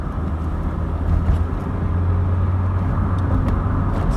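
A Ford Focus pushes past a truck on an open road, with a steady low engine rumble and tyre and road noise holding close and even throughout, no voices.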